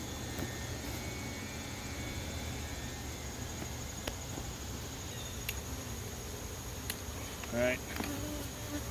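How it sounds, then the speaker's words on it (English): Dense, steady buzzing of many honeybees in an opened Russian beehive during an oxalic acid treatment, a close continuous hum with a brief louder swell near the end and a short spoken remark. "there's a lot of bees in here."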